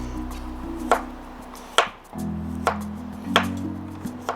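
A knife chops firmly through a carrot against a cutting board in slow, separate strokes, about five sharp cuts over a low steady hum.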